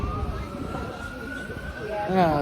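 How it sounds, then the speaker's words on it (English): Fire engine sirens wail nearby, with a rising tone sweeping upward and then a warbling pattern breaking in at the end, over a rumbling background. "Sirens coming, fire engines."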